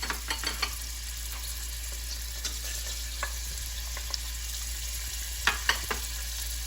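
Shrimp and garlic fry in hot oil in a pot with a continuous close sizzle and crackle, punctuated by brief scraping stirs and a few sharper spits toward the end.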